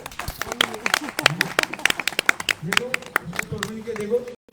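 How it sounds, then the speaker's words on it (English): An audience at a devotional gathering in Agra claps in a loose, scattered patter of sharp hand strikes, with voices talking over the clapping. "Please clap."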